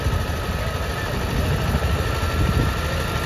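Engine of an old-model 2009 Eicher tractor running steadily at a low, rumbling idle, fairly close and continuous with no pauses and no talk over it.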